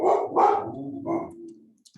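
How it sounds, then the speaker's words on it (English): A dog barks sharply two or three times in quick succession, fairly close and loud, with the barks fading into quiet after about a second and a half. "I'm sorry about the dog"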